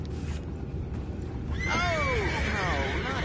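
A horse whinnies loudly, its descending neigh standing out against a steady low rumble of background noise.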